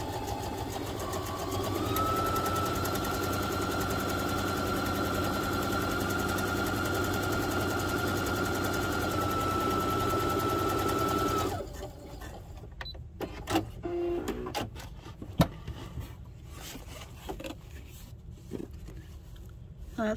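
Sewing machine running steadily while stitching along the edge of webbing for rugged hockey or figure skate guards, a loud continuous motor whir for about eleven seconds, then stopping, leaving faint clicks and handling noises.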